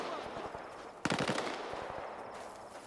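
A short burst of rapid automatic gunfire erupts in the Stalker 2 video game on Xbox Series X, a single loud rattling volley about a second in, with quieter scattered shots before and after.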